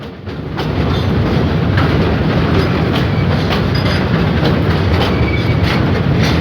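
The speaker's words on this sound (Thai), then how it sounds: "มุมรถไฟเข้าโค้ง แล้วก็ผ่านจุดตัดนะฮะ" Express train 632 rolls past close by through a curve and over a road level crossing in Thailand, with a heavy, continuous rumble and faint clacking of wheels over the rails.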